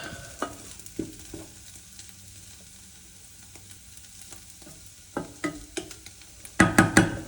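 Oil-coated home fries browning in a pan, a soft steady sizzle broken by scattered scrapes, then a quick run of loud spatula knocks and scrapes near the end.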